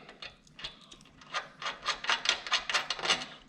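Metal wrench and 8mm Allen key working a rear suspension bolt loose on an Lx/Lc vehicle, giving a run of close, scraping, rasping bursts that build in loudness with no talking.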